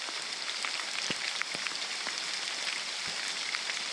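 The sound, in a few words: rain falling in the forest during a hike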